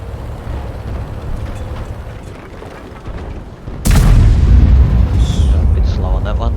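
A Panzer IV tank gun fires a single shot in the video game World of Tanks, a sudden loud boom with a long rumbling tail, preceded by quieter game ambience and talk.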